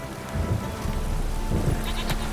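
A heavy rain downpour in The Witcher 3 forms a steady, dense hiss of falling water throughout, with a low rumble underneath and a few faint distant knocks, with no speech.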